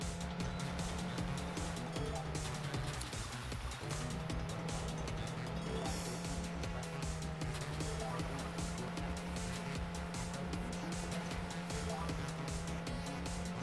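A jet ski engine in the video game Aqua Moto Racing Utopia drones steadily and loudly throughout, its pitch dipping and rising slightly, with splashing water texture under it.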